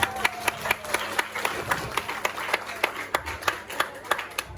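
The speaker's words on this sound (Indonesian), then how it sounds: "Sudah tepuk tangan nih para penonton." Audience clapping at a Balinese Drama Gong stage performance, a steady rhythmic run of sharp claps over a humming background, moderately loud and continuing throughout.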